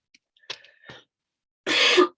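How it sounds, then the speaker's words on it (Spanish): A single close, breathy cough bursts out after a few soft, murmured vocal sounds. "Perdón por mi tos."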